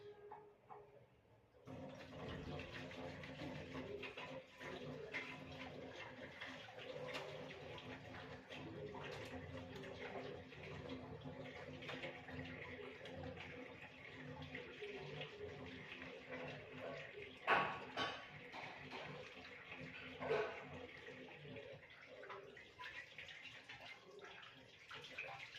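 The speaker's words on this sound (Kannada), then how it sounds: "ಫಸ್ಟು ಹ್ಯಾಂಡ್ಸನ್ನ ನೀಟಾಗಿ ವಾಶ್ ಮಾಡ್ಕೋಬೇಕು." Hands being washed under a running tap, a steady close wash of flowing water with splashing, lasting throughout, with a few louder splashes and a voice speaking beneath the water.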